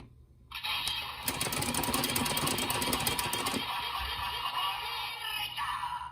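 Electronic sound effect from a GP Sentai Gear 05 toy for Kikai Sentai Zenkaiger: a loud, buzzy mechanical whir that pulses rapidly for a couple of seconds, then settles into a steady droning tone.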